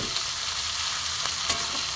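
Tomato frying in hot oil, a loud, dense crackling sizzle with a couple of stirring scrapes, continuous and close, no voices.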